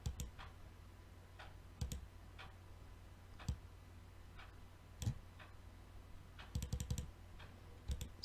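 Computer keyboard keys click in scattered taps and short bursts, quiet and close in a still room, with no talk over them.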